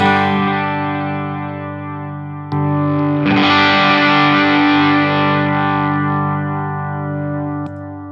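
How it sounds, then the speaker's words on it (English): A sustained electric guitar chord rings through an amp, then a louder, gritty strum swells in as extra volume overdrives the amp's input, holding before fading, thick and distorted with a touch of echo. "pushing a lot more volume into the front end of the amp, and therefore I'm going to overdrive the input"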